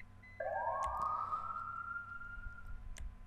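A police or emergency siren from the GTA 5 video game's ambient sound track gives a single rising wail that holds steady and then fades out, fairly faint over a low background hum.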